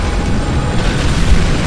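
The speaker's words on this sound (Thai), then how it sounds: "ระเบิดเป็นเสียง" Explosion in Spec Ops: The Line, a loud, dense low rumble that rolls on without a break, with a heavier thump near the end.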